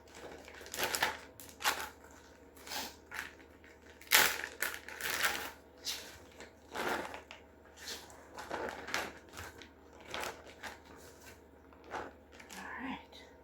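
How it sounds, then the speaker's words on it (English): A head of lettuce is chopped on a board: a quick series of crisp, crunchy knife cuts in uneven bursts, close up and fairly quiet, with soft speech in places. "Okay, I just chopped up that head of lettuce"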